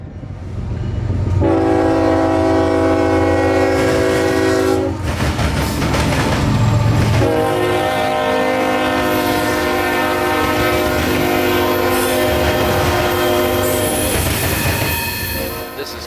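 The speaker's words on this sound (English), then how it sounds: "Q44101 is nearing our town." A CSX freight train rumbles past loudly and continuously in Plant City, Florida, while its horn sounds in long blasts, one early and another sustained, over steady wheel noise.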